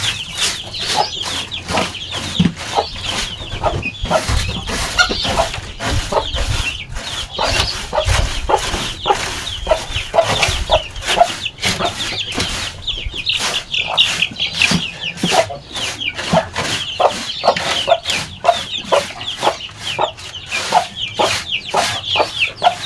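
Small chicks and chickens cluck and peep steadily in a farm feeding area, a dense, continuous chorus of close chirps with rhythmic scratching and clatter throughout, no talking.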